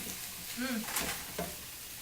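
Lasagna filling cooks in a pan with a soft sizzle and a few stirring scrapes over two seconds. A brief voice-like sound is heard over the cooking.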